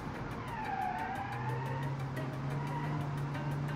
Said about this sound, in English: The engine is torquey, it's powerful.